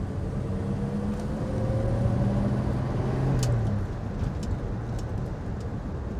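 A Rover P4 classic car's engine drones steadily while driving, a continuous low hum whose tone climbs and eases slightly as it pulls along, heard from inside the car with no talking.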